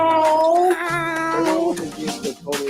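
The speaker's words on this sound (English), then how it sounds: "Stop meowing." A cat meows loudly and close up in a long, drawn-out, wavering cry, followed by shorter broken meows, with no talk over it.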